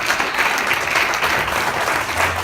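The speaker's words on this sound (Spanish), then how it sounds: "eso merece una algarabía, un aplauso a Dios" A church congregation applauds during a sermon, a steady wash of many hands clapping at an even level throughout, with a faint murmur of voices underneath.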